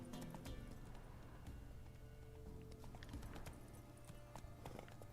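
Rhythmic clip-clop of a horse galloping in The Witcher 3, steady hoofbeats running throughout over game ambience and music, close and continuous.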